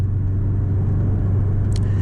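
A Porsche 718 Boxster GTS coasts downhill in third gear, its engine a steady low rumble with road noise, close and even throughout, with no voices.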